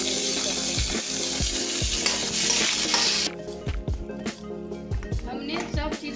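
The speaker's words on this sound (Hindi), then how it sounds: "और मैं सीताफल की फ्राई कर रही हूँ" Pumpkin and mixed vegetables such as carrot, potato, peas and cauliflower frying in a pan, with a loud sizzle and repeated scraping stir strokes up close, someone talking over it.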